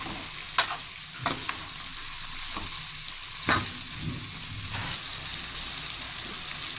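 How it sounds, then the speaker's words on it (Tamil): Masala-coated bitter gourd sautéing in oil in a pan, a dense crackling sizzle throughout, broken by a few sharp knocks of a ladle stirring against the pan, close and fairly loud. "அதை அந்த எண்ணெய்க்குள்ளே போட்டுருங்க. போட்டு நல்லா வந்து வதங்க விடுங்க."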